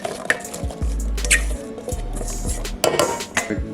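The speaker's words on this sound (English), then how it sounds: "scoop them right into our bowl" Apple pieces scooped from a dish into a mixing bowl of cake batter, with close, sharp clinks and scrapes of a utensil against the bowl, several separate knocks and soft thuds over a few seconds.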